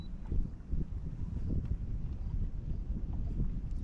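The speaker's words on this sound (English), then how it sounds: "I got a little wind picking up, I apologize" Wind gusting across a lake while fishing for walleye, a steady low rumbling buffet close on the microphone, with faint water and boat knocks underneath and no talk.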